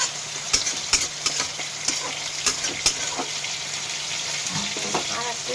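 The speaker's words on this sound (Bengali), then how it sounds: "মাছটা ভাজা দিচ্ছি।" Fish frying in a pan beside a pot of bitter greens, a soft continuous sizzle broken by a few sharp spatters and light scraping clicks, close but fairly quiet.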